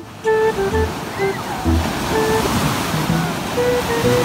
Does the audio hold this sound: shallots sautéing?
no